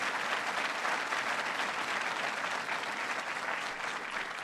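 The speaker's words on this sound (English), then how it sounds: "They deserve our applause and our praise" Steady, even applause from an audience carries on throughout, moderately quiet and continuous, with no voices standing out.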